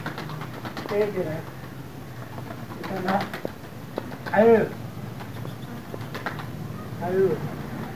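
Pigeons coo in a loft or coop where one stray pigeon has joined the flock: four soft, rounded coos spaced a couple of seconds apart over a steady low background hum.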